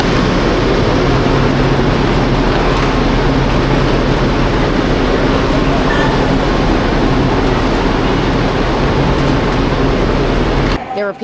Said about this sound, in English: We're at the train station